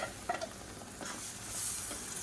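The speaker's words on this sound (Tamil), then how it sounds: "இந்த தக்காளியை சேர்த்துட்டு நல்லா எண்ணெய் பிரிஞ்சு வரட்டும்" Blended tomato sautés in hot oil in a pan for a Tamil kulambu, giving a steady close sizzle with a few brief stirring clatters near the start.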